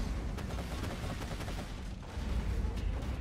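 Grenades burst around a player in Borderlands 2, giving a dense run of rapid explosive thumps and cracks that sound close and continuous for the whole stretch with little pause between blasts.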